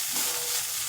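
Banana stem and prawns for a thor chingri dish fry in hot oil, a soft continuous sizzle with faint stirring, close and quiet, with no voices.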